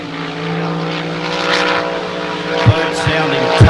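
Race jet boat in the 6-litre category, its engine roaring steadily as the throttle opens, with a sustained droning tone and a few sharp bursts near the end, heard under a commentator's voice.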